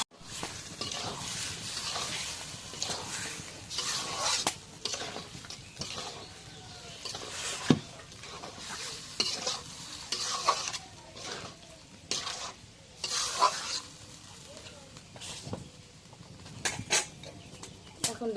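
Chicken pieces frying in cooked-down spice masala for a spicy biryani are stirred with a spoon, producing intermittent scraping and soft sizzling bursts with occasional clanks against the pot, fairly quiet overall.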